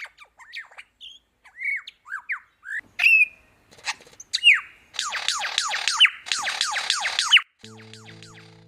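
A lyrebird calls alone and up close with a varied run of sharp squawks, whistles, chirps and rapid trilled phrases, the song shifting from one mimicked call to the next with short pauses between bursts.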